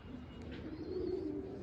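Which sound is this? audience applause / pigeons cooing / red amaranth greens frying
pigeons cooing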